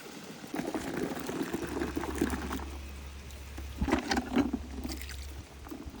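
Water runs steadily into a bucket with detergent for soaking laundry, with a low, continuous hum underneath, moderately quiet and without voices.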